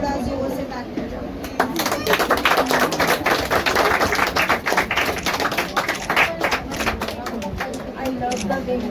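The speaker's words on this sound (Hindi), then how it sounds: "Please थोड़ा जोर से ताली बजाओ।" Audience at a ladies' awareness program event applauding, a steady dense patter of many hands clapping for several seconds, fairly close and continuous.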